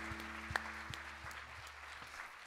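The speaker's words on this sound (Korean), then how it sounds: "주님 앞에 감사와 영광의 박수를 올려줍시다." Applause from a church congregation at a young adults' worship service, fairly quiet and steady with a few sharper claps standing out, over a low sustained hum.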